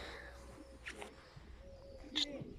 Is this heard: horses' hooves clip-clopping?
no